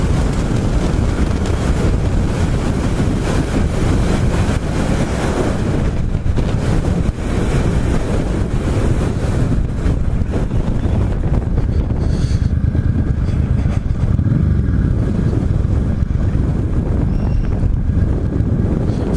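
Constant roaring wind gusting up to 25 to 30 miles an hour buffets the microphone, steady and loud throughout with a rushing, surf-like wash and no voices, on Route 66 between Kingman and Seligman, Arizona.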